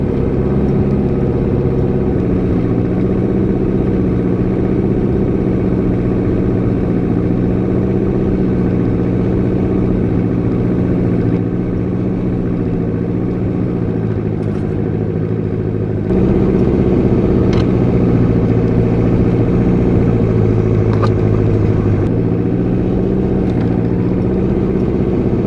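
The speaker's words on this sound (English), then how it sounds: "this kind of work puts very little stress on the diesel engine" A diesel Jeep crawls slowly through snow on chains, its engine a steady, loud low drone with a faint clatter running underneath, continuous and close for the whole stretch, and the tone shifts slightly partway through. No one speaks.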